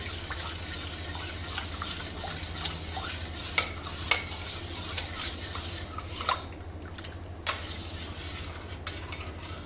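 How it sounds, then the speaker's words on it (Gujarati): A spoon stirs warmed, cooled milk into cream in a bowl for homemade mango ice cream. The soft, continuous swishing stays fairly quiet, broken by a few light clinks against the bowl, with no talk. "એને અંદર રેડી દઈશું અને મલાઈમાં એને સારી રીતે મિક્સ કરી લઈશું"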